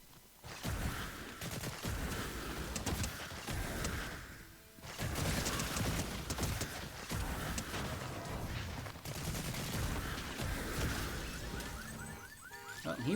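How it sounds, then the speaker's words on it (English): Continuous rapid gunfire from a shotgun that shoots at submachine-gun speed in the game Fortnite, loud and dense with a brief lull midway and no talking. "They're a shotgun that fires like an SMG."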